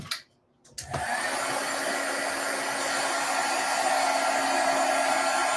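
A hair dryer blows to dry a craft project with fiber on it, kicking on after a brief click and a moment of quiet, then running as a steady, loud, continuous whoosh until the end.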